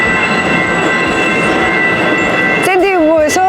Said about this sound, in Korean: 자, 보시는 기차입니다.